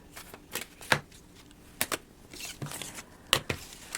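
A deck of two-toned black-and-white playing cards is shuffled nearby, giving crisp, irregular riffling bursts and soft card slaps, with quiet pauses between them.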